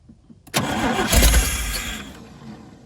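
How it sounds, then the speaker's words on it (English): The engine of a 1977 GMC truck fitted with a new carburetor cranks briefly, then catches and roars to life loud and close before settling toward a rough idle. "So this is gonna be the first start on the new carburetor."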